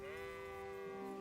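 Sheep bleating in a video game, a single sustained, quavering bleat, faint and alone, lasting about a second.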